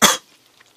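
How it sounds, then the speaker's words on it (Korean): One loud, sharp cough from someone eating spicy fried chicken, a single burst fading quickly into quiet. "목구멍 오르고 양념 들어가는 순간에 갑자기 기침 오지게 나네"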